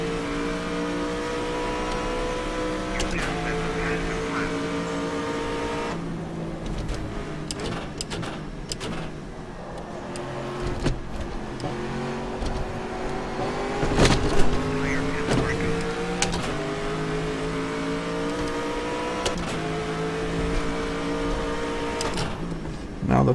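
A GT race car engine drones steadily at Le Mans in a racing game, with rising and falling harmonic tones through gear changes and a few sharp shift clicks, loud and continuous throughout.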